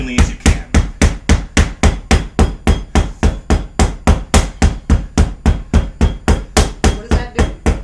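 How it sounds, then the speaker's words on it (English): About thirty heavy, evenly spaced thuds sound up close as rough puff pastry dough layered with butter is smacked and beaten flat in a fast, steady rhythm. "you're going to start smacking and beating"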